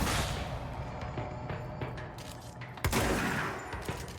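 Gunfire in the video game Control: a dense burst of shots rattles continuously, with a sharp, louder volley near the end and no voices.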